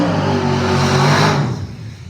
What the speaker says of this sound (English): Tom Bailey is rolling into the water box